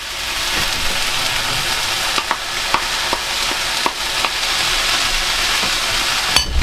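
Spring onions and mushrooms sizzle steadily in a hot frying pan, a continuous crackle broken by occasional scrapes and clicks of stirring, close and fairly loud.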